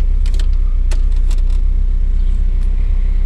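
Original GM keys jangle in a 1989 Chevy S10 Tahoe, several short metallic clinks near the start and middle over a steady low engine rumble.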